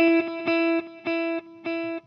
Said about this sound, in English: I have one of these multiple subdivisions set up, and it sounds like this.